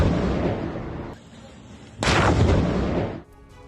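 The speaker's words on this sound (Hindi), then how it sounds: "ये देखिए कितना बड़ा धमाका हुआ।" A loud blast from a drone strike bursts out, preceded by a sustained roar and followed by a long rumbling boom that cuts off abruptly.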